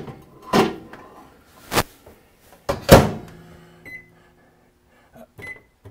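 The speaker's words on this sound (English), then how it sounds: "Into the microwave." A few sharp knocks and thuds of a microwave oven door shutting, then short electronic beeps as the microwave starts, with a faint hum between.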